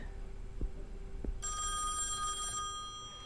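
A telephone rings in the horror game Song of Horror inside a dark, unpowered house, a steady bright electronic trill lasting over a second, preceded by two soft dull knocks and low ambience.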